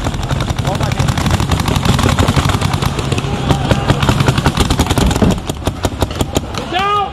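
Paintball markers fire in rapid bursts of sharp pops during a tournament-style paintball game, dense overlapping shots from nearby and across the field, with voices calling out over the steady shooting.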